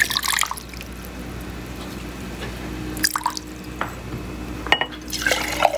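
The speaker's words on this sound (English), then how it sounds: "First thing we're going to do is take our water and dump it." Water is poured and splashed into a bowl while making a gnat trap: close, intermittent bursts of pouring and dripping separated by quieter gaps.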